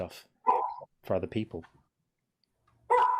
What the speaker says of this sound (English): excuse my dog bark back there